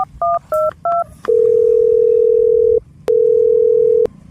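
A telephone being dialed: three short paired keypad beeps in quick succession, then a long steady tone, a brief gap, and a second long tone, all loud and clear with no talking.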